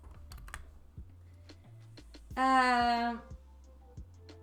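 Computer keyboard keys click in a sparse, irregular pattern through a quiet indoor room. A brief, louder tonal sound stands out partway through.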